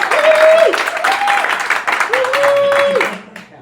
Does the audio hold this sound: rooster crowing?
no